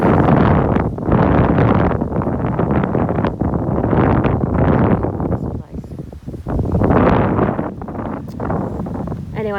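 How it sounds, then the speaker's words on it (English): Strong gusty wind roars across open pasture where a larger herd of horses is being fed hay, buffeting the microphone almost continuously, with someone speaking over it in stretches. "you probably aren't going to hear me because of the wind"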